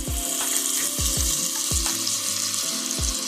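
Minced garlic sizzles as it hits softened vegetables in a hot pan for white bean soup with turkey bacon, a steady frying hiss broken by several low knocks and clatters of spoon or utensil.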